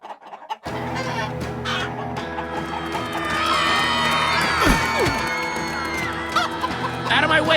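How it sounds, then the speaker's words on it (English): Chickens cluck in Minecraft Story Mode over a dense, continuous game music and ambience bed, the fowl calls scattered and partly buried in the mix. "Out of my way, chickens!"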